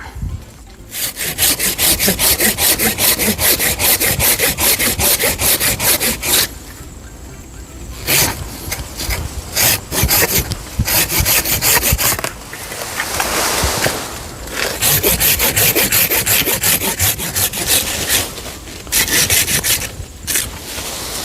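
A hand saw cuts through the branches of a five-year-old custard apple tree, with loud, rapid rasping strokes in long bursts separated by brief pauses, close up.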